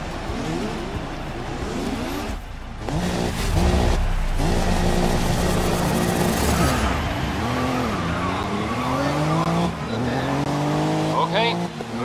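Race cars in the Grid 2019 racing game rev and accelerate at the start of a race, with engine whines rising and falling, gear changes and some tire squeal, while a voice talks over the engines.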